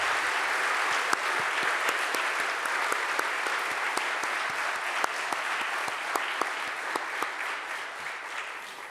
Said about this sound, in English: give another round of applause to the outstanding speech by Dr. Muhammad.